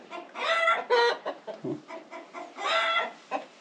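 Close, repeated chicken clucks and squawky calls in quick bursts, with a short low grunt between them.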